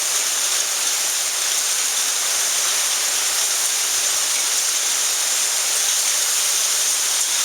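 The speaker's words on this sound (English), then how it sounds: "There it comes the hail again." Hail pours down steadily during a storm in Dallas, a dense, continuous loud hiss of ice striking surfaces with no pauses and no talk.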